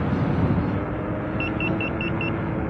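A Begode A2 electric unicycle gives a series of five short, evenly spaced high beeps while riding over bumpy, rocky ground, over a steady low rolling rumble.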